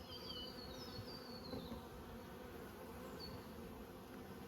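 Honey bees swarm around five-frame nucleus hives at an apiary in Coramba, giving a soft, steady buzz with faint passing whines as individual bees fly close, distant and quiet overall, with no voices.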